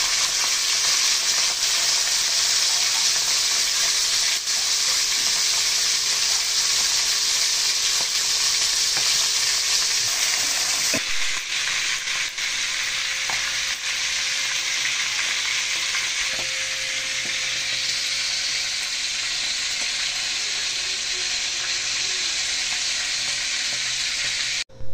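Marinated homemade beef tapa fries in an oiled pan, a steady loud sizzle that runs throughout with a change in texture partway through and occasional clinks, no one talking.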